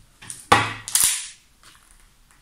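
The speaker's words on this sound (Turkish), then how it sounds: "Şarjörümüzü yine çıkaralım." A CZ 75D Compact 9x19 pistol has its magazine removed, giving a sharp metallic click and slide of the magazine, then a second clack, close and alone with no talking.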